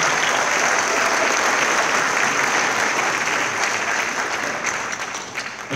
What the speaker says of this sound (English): Give the students another round of applause for all the hard work.